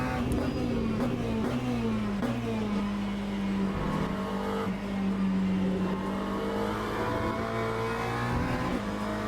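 Race cars in the Le Mans Ultimate sim racing game, including a Ferrari and a BMW, drone loudly and continuously with a steady engine note that shifts slightly in pitch, with no talk over it.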